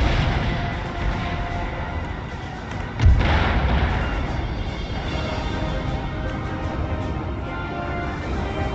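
A Napoleonic artillery cannon in Napoleon Total War fires one deep boom at about three seconds. It rises over a constant rumbling battle din and then fades back into the noise.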